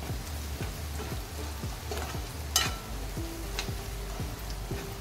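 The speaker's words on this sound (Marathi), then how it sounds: "आता आपल्याला चांगलं परतवून घ्यायचं आहे." Homemade spice masala stir-fried in a pan for a Bombay duck (bombil) curry, with a steady sizzle and a regular rhythm of spatula scrapes and stirs, close up, with no talking.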